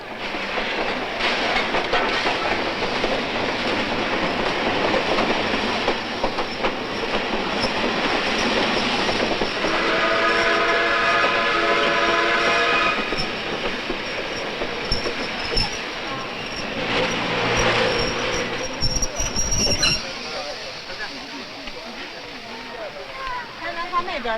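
A train stands at a station platform amid steady broadband rail noise, with tonal squealing or hum bands midway and a clatter near the end; a platform announcement and other voices run throughout.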